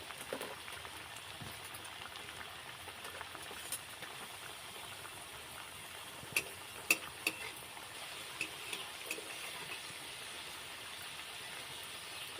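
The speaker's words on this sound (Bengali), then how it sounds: "একসঙ্গে 4টে করে নেব, ভাজবো।" Flower pitha fry in hot oil with a soft, steady sizzle, faint and continuous, broken by a few light clicks near the end.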